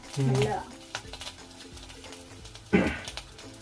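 Veg seekh kebabs fry in a pan, turning golden brown, with a steady soft sizzle broken by a few louder clattering stirs and a sharp burst near the end.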